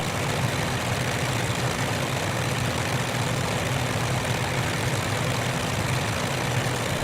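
Light aircraft engine droning at reduced RPM during flight, a constant, dense rumble with a broad steady roar heard from inside the cabin, unchanging throughout with no voices.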